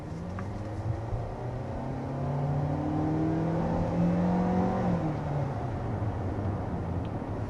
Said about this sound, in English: there we are, kind of accelerating with this 2023 Kia Seltos